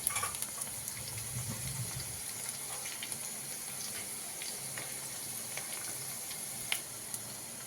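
Buttermilk poured into a hot garlic and asafoetida tempering for a vegetable dish, producing a soft watery rush and low, steady sizzle with occasional small crackles, close and quiet, no talk.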